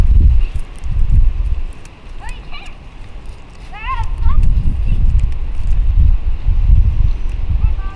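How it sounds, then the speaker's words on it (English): Wind gusts across an outdoor microphone, rumbling in low bursts with faint rustling, while someone talks nearby. "You guys can hear the wind"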